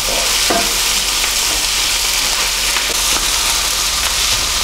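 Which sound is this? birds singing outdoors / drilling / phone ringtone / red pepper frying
red pepper frying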